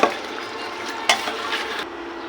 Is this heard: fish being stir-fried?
yes